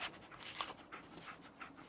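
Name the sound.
dog panting, Dogmeat in video game Fallout 4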